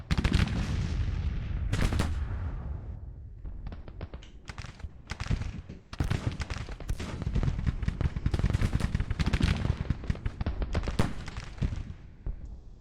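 Sustained rifle volleys crackle from Civil War soldiers in Grand Tactician: The Civil War at Antietam, dense overlapping shots and booming reports rolling continuously without a break.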